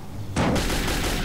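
Gunfire in the video game Metro 2033: a loud burst begins abruptly and continues as sustained, dense shooting with a few sharper reports, heard without talk.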